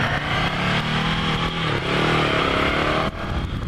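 Ducati Scrambler Cafe Racer motorcycle engine running loud and close while riding, with a steady rumbling drone that rises in revs midway and briefly dips near the end, no voices.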